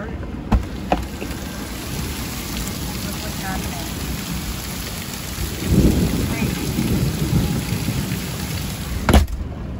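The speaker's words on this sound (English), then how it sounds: "And the pounding rain." A severe thunderstorm with pounding rain, a steady dense hiss of downpour with a low rumble of thunder swelling midway and a couple of sharp cracks, heard outdoors from a sheltered spot.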